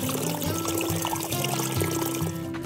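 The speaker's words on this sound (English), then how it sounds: "I just filled up that water source." Water filled from a trail water source while thru-hiking Vermont's Long Trail: a close, steady pouring trickle into a container, gurgling continuously for a few seconds with no talk.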